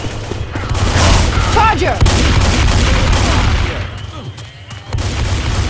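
Dense shotgun blasts and rapid gunfire in Left 4 Dead 2, loud and continuous, layered with chaotic game effects while a player shouts over the shooting.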